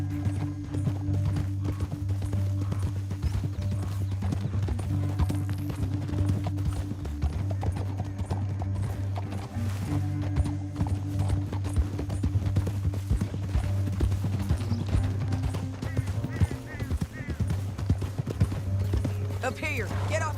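Horses gallop in Red Dead Redemption 2, a continuous rapid clip-clop of hooves over a rumbling ride, running under frequent talking from in-game characters.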